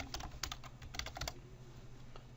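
Someone types on a computer keyboard. A quick, uneven run of light key clicks thins out to a few isolated taps, quiet and close, with no speech.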